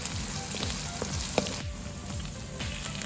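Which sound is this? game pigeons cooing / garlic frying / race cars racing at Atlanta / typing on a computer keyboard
garlic frying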